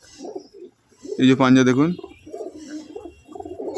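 Low pigeon cooing murmurs beneath a voice as female pigeons are handled and shown, the birds' burbling steady behind the talk.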